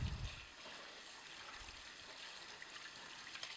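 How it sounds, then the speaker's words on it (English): Water runs quietly from a tap over stainless steel citrus juicer parts in a kitchen sink, a soft steady trickle with a brief thump at the start. "You're just going to rinse these parts out."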